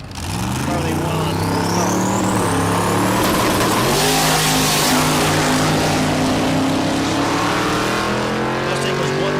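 A twin-turbo Mustang drag races down the track, its engine roaring loud and rising in pitch as it accelerates hard. A voice talks over the engine noise.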